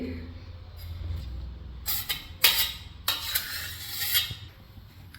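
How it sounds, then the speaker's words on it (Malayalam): Cooked vegetable pieces for Kerala olan are moved from a pressure cooker into another vessel, giving a few clanks and scrapes of metal utensils against pots in bursts. Low background hum runs underneath. "ഈ കഷ്ണെല്ലാം വേറൊരു പാത്രത്തിലേക്ക് മാറ്റി കൊടുക്കാം"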